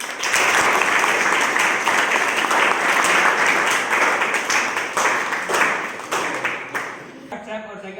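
A crowd of B.Ed students gives loud, sustained applause to honour a second-semester topper. The clapping stays dense and steady for about seven seconds, then trails off with some murmuring at the end.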